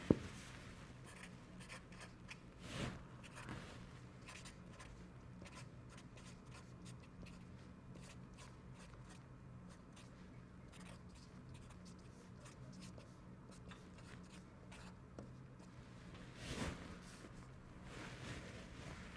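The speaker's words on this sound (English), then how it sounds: "Write this down on the paper" Pen or pencil writing on paper, close and quiet, with a continuous scratchy scribble broken by occasional louder taps and strokes over a long stretch.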